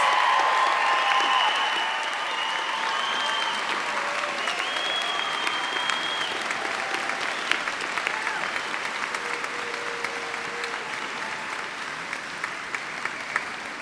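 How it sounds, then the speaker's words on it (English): At a graduate hooding commencement ceremony, a large audience claps steadily for doctoral and master's graduates, dense and sustained, with scattered whoops and cheers rising above the clapping. "Let's give one more enthusiastic round of applause for all of our doctor and master's candidates."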